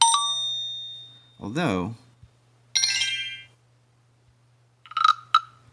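Google Pixel phone notification tones play one after another: a bright chime, a short rising-falling tune and a pair of quick dings, separated by short pauses, with someone speaking briefly between them.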